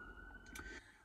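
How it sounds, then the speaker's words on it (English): An emergency vehicle siren wails from a nearby main road, a faint, distant tone rising briefly, heard alone without talk. "excuse the siren if you can hear it"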